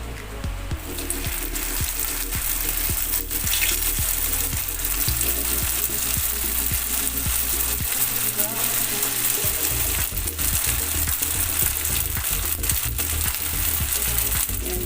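Milkfish spring rolls (lumpiang bangus) fry in hot oil with a steady, dense, crackling sizzle that carries on without a break. Faint clicks and shifting sounds come and go underneath, and the sound stays close.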